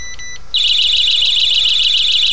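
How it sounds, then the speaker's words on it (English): Gas detector sensor going into alarm mode: after a brief quieter beep pattern, a loud, piercing, rapidly pulsing electronic tone starts and holds steadily, close up and alone. "Okay, now it's an alarm mode."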